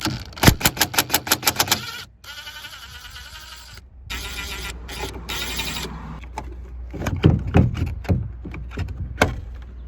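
Quick ratchet clicks as 10 mm bolts are backed out of a Ram truck towing mirror mount, a burst of rapid clicking followed by scattered metallic taps and handling clatter, close and moderately loud.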